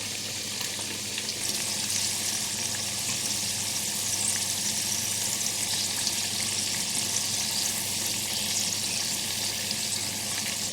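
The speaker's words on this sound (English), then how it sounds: "immediately after dropping the handfuls of spoonfuls of batter into the oil, drop the heat to low, and we need to cook them for about 3 minutes" Potato and onion pakora batter frying in hot oil, a dense, even crackling sizzle that holds steady and close throughout with no voices over it.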